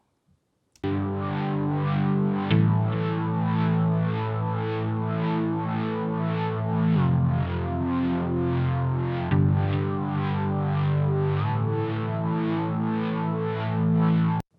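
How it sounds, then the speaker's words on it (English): A solo mono synth bass line from a keyboard patch with a slight wobble, sustained and gritty with a distorted, chorused texture, changing notes every couple of seconds at a steady, loud level with no other instruments. "take a listen to this mono bass track just in solo by itself"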